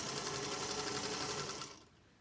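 A sewing machine stitches quilt pieces together in one steady, rapid run of needle clatter, close and fairly quiet, then stops and fades out near the end with no talking.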